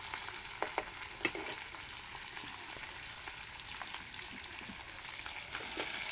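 Half-fried fish crackles in a pan as elephant apple is added, a constant sizzle broken by a few sharp pops and spatula scrapes near the start, with no talking.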